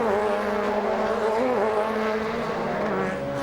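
DTM touring race cars from the 2000 season at the Norisring street circuit roar past in a dense, loud engine howl, pitch wavering and bending as they accelerate, with no break in the din.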